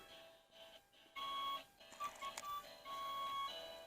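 A 12-inch interactive Super Mario Yoshi toy figure plays a tinny, electronic Super Nintendo game tune with an acoustic-guitar-like melody of sustained bright notes, small and close, with no talking.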